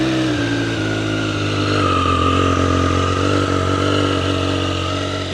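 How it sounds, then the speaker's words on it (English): A Triumph Street Triple 765RS motorcycle engine idles steadily after starting, a loud continuous close-up running note with a faint rise in pitch as it warms up, no voices over it. "So now start the bike and time to warm up the engine."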